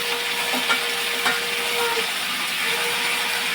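Tomato paste frying in hot oil with cinnamon, cloves, cardamom, bay leaf and ginger paste, a loud continuous sizzle and hiss with a couple of soft stirring scrapes, close up.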